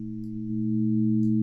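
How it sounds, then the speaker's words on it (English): Steady amplitude-modulated synthesis tones from Max/MSP, a low stack of sustained pitches holding evenly for about a second and a half, clean and alone with no voice. "And here's the same thing, but this time with amplitude modulation."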